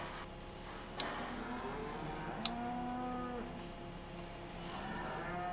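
Cows mooing in the farming game Farming Simulator 15, several drawn-out low bellows overlapping one after another in a barn setting, moderately loud over a soft background hum with no talking.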